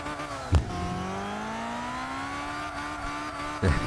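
A Honda Life Step Van in a racing game brakes hard into a turn, a sustained engine tone sliding upward as the tires squeal, with a couple of short thumps at the start and end; no talk.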